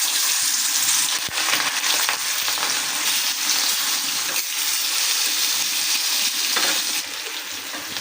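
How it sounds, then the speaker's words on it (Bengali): Pieces of pointed gourd (potol) fry in hot oil for a fish curry, giving a steady, dense sizzle and crackle throughout with occasional clinks of stirring. "তো এখানে আমি মাছের জন্য পটলগুলো একটু ভেজে নিতেছি।"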